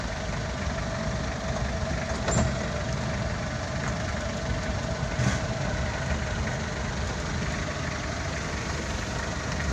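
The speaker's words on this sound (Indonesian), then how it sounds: "Bus tidak kuat nanjak. Jadi ini mundur." A loaded passenger bus strains its engine on an uphill road and rolls backward. Its heavy, steady drone holds at a loud level throughout, with faint clanks now and then and no talking.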